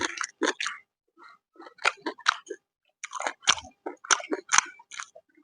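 Close, crunchy chewing of large boiled freshwater snails with crisp irregular bites and pauses in between, loud against an otherwise quiet background.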